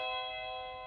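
Vikel wireless doorbell chime ringing a single bright, bell-like electronic tone that sustains and slowly fades, heard alone and fairly quiet.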